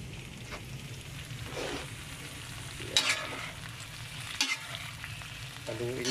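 Shrimp and scallops fry quietly in a pan while being stirred, with a soft steady sizzle and occasional scraping knocks of the utensil, close up and without speech.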